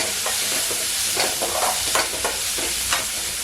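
Tomato sautéing in a pan for a potato masala to go with puri: a steady soft sizzle with a few scraping stirs of a spoon, close and alone.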